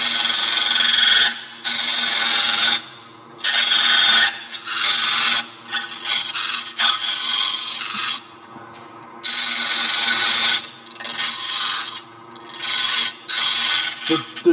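Woodturning tool cutting a mortise in a textured wall plaque held in deep dovetail chuck jaws on a lathe, loud scraping bursts of cutting separated by short pauses, close up and with no talk.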